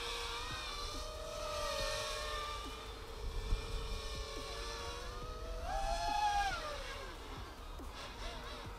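Eachine Shadow Fiend drone in flight, a steady high whine of spinning propellers that rises in pitch as it speeds up briefly, holding at a fairly constant level throughout with no talk.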